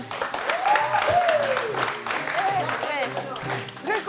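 Audience applause on a lively TV show, a moderate wash of clapping running under talking and shouting voices throughout.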